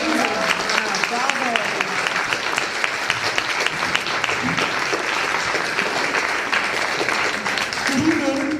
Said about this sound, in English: Can we get another round of applause for all the students tonight?